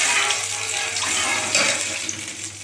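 Water pours steadily into a cooking pot while zarda sweet rice is being made, a continuous splashing rush heard close up with small clinks, and no talking.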